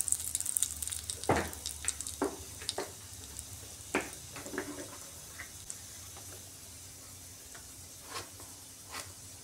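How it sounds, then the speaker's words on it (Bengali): Bay leaves for tempering go into oil left from frying fish and set off a sharp burst of sizzling at first. The sound then settles into scattered pops and crackles over a soft, fading hiss. "এবারে মাছ ভাজার তেলের মধ্যে ফোড়ন দিয়ে দিচ্ছি। প্রথমে দিচ্ছি তেজপাতা"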